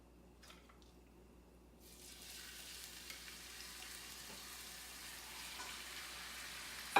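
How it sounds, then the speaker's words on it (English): Tilapia fish goes into hot oil in a pan already used for vegetables, and a soft sizzle rises after a couple of seconds and then holds as a steady, close, gentle frying hiss with no talking. "So let's go ahead and add a little bit more oil. And we're gonna add our fish in now."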